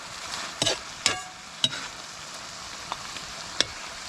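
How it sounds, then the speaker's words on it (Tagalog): Tilapia with tomatoes sautéing in a pan, a low steady sizzle broken by several sharp scraping and tapping strokes of a spatula against the pan, no voices. "Medyo isasama lang ho natin sa gisa"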